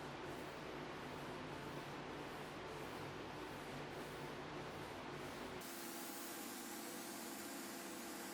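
Mohawk vinyl sealer sprayed in coats onto a sanded-back MDF desktop makes a continuous hissing spray that drops to a softer, thinner hiss partway through.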